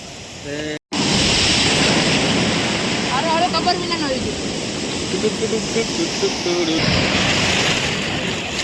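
Sea waves at Diu beach wash in as a loud, steady roar of surf very close to someone standing in the water, with faint voices and a brief drop-out near the start.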